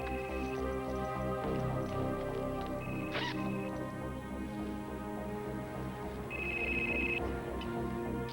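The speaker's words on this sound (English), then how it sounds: "Let me call her on her cell phone." Cell phone ringing in a soap opera scene, heard as short electronic tone bursts over a steady, busy background.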